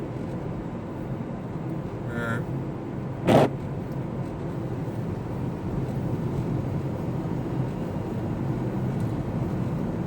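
Renault Kangoo van engine straining uphill in fourth gear, a steady low droning rumble heard from inside the cab, with one brief sharp click partway through.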